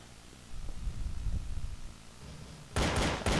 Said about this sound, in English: I now have this Glock, and it works exactly like you would expect it to